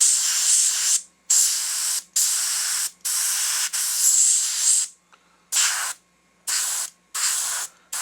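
An aerosol spray can hisses in short bursts of about one second as paint goes onto a bass fish taxidermy mount, close and loud, with brief silent gaps between passes.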